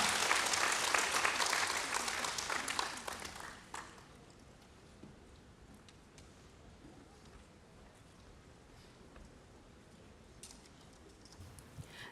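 A church congregation applauds during a Sunday worship forum as a speaker comes forward, steady loud clapping filling the room for about four seconds before fading to quiet room tone.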